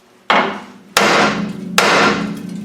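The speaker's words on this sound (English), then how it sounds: "To get it off, hammer." A hammer strikes a rusted steering tie rod joint three times, each a loud, sharp metallic whack about a second apart, followed by ringing decay.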